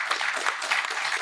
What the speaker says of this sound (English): So please give Gary a round of applause